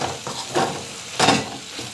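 Ingredients for a dosa are sautéed in a pan, heard as soft sizzling broken by two or three quick scraping strokes of a spatula, near and quiet with no talk.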